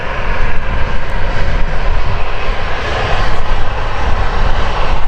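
Jet2 Holidays airliner in silver and red livery roaring at Manchester Airport, a loud, steady broadband jet-engine rumble that holds at full strength throughout with no talk over it.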